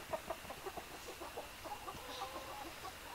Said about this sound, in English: So here's the chickens.